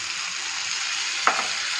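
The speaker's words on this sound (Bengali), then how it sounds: "আর এই যে আদা রসুনের জলটা আছে" Liquid ginger-garlic water poured into masala frying in a pan gives a sudden burst of sizzle over a steady hiss of frying, then settles back to the constant crackle.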